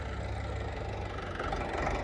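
An HMT 5911 tractor engine runs steadily at low revs in first gear, a close, even, low rumble with a faint knocking texture and no talk.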